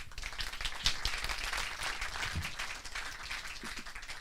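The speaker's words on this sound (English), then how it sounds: "You can clap." Audience applause at the close of a talk at a gamification and audience development session, a steady spread of clapping hands across the clip, moderately loud, with a brief sharp clap near the start and no talk over it.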